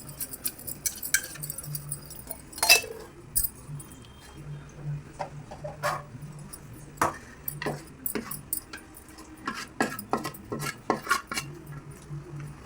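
Plates are set out and handled while making peanut laddus, giving a series of light clinks, taps and metallic knocks at irregular intervals, fairly close and without talk.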